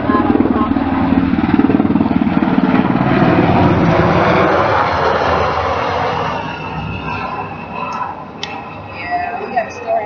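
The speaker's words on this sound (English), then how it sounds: "It seems we have a helicopter overhead." A helicopter passes overhead near a hospital, its steady loud rotor and engine roar filling the air and then slowly easing off, with a few faint clicks near the end.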